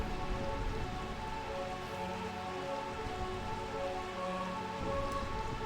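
Steady rainfall in the Final Fantasy IX video game, a continuous dense patter of rain on surfaces with a low background drone, even and moderately loud throughout without a break.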